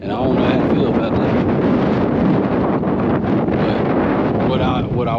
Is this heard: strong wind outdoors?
yes